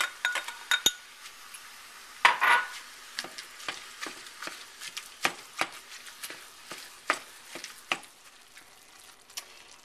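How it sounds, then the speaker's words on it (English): Ground beef, onions and garlic sauté in a pan under a steady, faint sizzle, broken by frequent sharp clicks and scrapes of a utensil stirring and tapping against the pan. "I'm going to add my onions and my garlic and let that all saute together"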